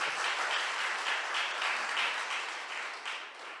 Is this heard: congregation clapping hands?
yes